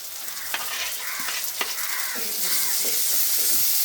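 Whole small onions and tomatoes sauté in a pan for a coconut-milk fish curry, making a steady close sizzle with a few stirring knocks and scrapes, and nobody speaking.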